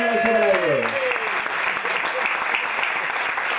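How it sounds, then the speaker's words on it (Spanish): Loud, steady applause from the crowd at a bass fishing competition in Caspe, greeting the winners, with a voice calling out over the clapping at the start before the applause carries on alone. "¡Un fuerte aplauso para ellos!"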